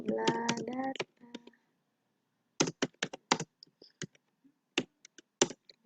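Computer keyboard typing while coding a loop program, heard as a quick run of sharp key clicks in short bursts after an opening stretch of voiced sound, fairly close and moderately quiet.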